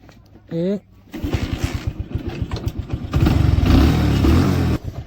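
Motorcycle engine catching after repeated kick-starting and settling into a loud, rapid putter, then revving; a voice speaks briefly at the start.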